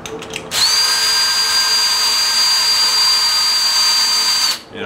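A cordless drill drives a punch through thin amplifier-chassis sheet metal to cut a 1-inch hole, giving a loud, steady high-pitched motor whine that starts abruptly and runs about four seconds before cutting off.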